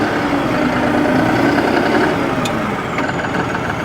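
A New Holland 5620 TX Plus CRDI tractor engine drives in high-range first gear, giving a loud, steady diesel rumble and chug close by, with no talking.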